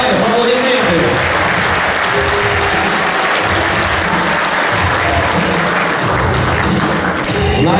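Loud, sustained applause from a crowd of hockey fans at a meeting with the team, dense clapping that continues unbroken from start to finish.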